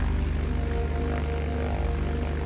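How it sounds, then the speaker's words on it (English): Vought XF5U fighter aircraft with two Pratt & Whitney Twin Wasp engines gives a steady, loud propeller drone with a low throbbing hum, continuous throughout with no talking. "The XF-5U is powered by two powerful Pratt & Whitney twin Wasp engines."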